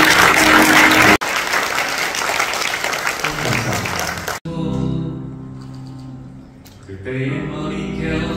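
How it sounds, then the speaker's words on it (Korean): Wedding guests at the Chosun Palace wedding hall clap warmly as the bride hands over the exchange gifts. The brisk, loud applause breaks off abruptly and gives way to soft music. "뜨거운 박수 부탁드립니다."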